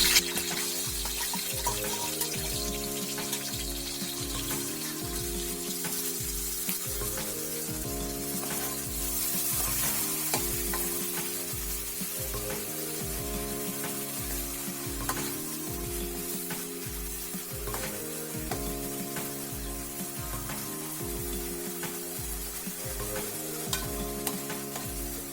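Onion paste for a dhaba-style chicken curry frying in a pan, with a steady sizzle and repeated rhythmic stirring scrapes throughout, close and fairly loud, under background music.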